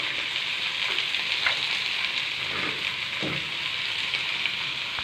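Onion and garlic sizzle steadily in hot olive oil in a pan, a continuous crackling hiss with occasional soft stirring scrapes, close and alone.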